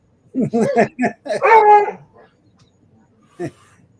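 A dog close by gives a run of yelping, whining barks that stretch into a short howl-like whine, followed by a pause and one more yip.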